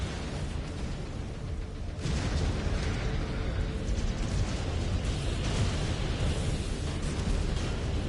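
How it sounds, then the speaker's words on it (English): A mech's reactor breach in the Mechwarrior 5 Clans video game erupts in a loud, sustained roaring blast that jumps up abruptly and rumbles on with dense, noisy crackle, with no speech. "Reactor breach. Explosion imminent."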